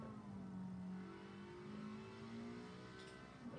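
An International truck engine in the Forza Horizon video game revs smoothly and fairly quietly, its pitch rising and settling in long sweeps over a steady engine drone.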